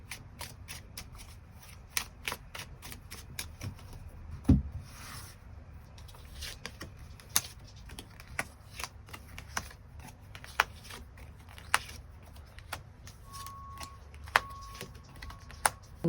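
Tarot cards shuffled by hand in a quiet room, a long run of quick papery riffles and soft taps repeating steadily and close, with one heavier thump near the start.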